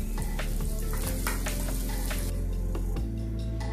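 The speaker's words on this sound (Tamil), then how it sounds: "பட்டர் போட்டுக்கலாம்." Butter sizzling loudly in a hot frying pan, a steady close crackle with stirring scrapes throughout, before garlic and onion go in for a mushroom fry.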